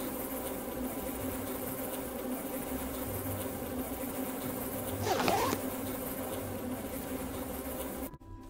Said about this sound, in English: Those wasps are way too hostile! They'll sting me so hard I'll die to death!